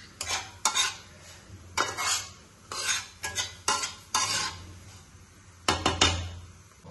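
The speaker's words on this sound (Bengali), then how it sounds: "এটাকে ভালোভাবে ভেজে নিই" Food frying in a home kitchen pan is stirred with a metal utensil, repeated scraping clinks in short bursts over a faint, steady sizzle, close up and with no talk.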